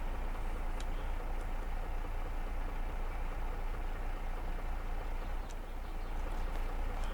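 A steady engine drone from an auger tractor in Farming Simulator 22, a low continuous rumble holding even throughout with no talk.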